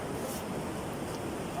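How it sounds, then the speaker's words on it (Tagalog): Ocean surf washes onto a beach during a community release of newly hatched baby sea turtles, a steady rushing wash with wind noise, moderately faint throughout. "Okay, ayun na, malaki alon."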